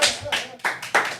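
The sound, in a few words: audience applause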